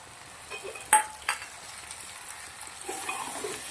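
Green peas go into frying okra and potato dry sabzi, bringing a soft sizzle and a couple of sharp clinks and scrapes of the spoon against the pan, quiet and close with no talk.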